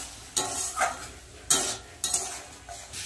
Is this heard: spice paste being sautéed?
yes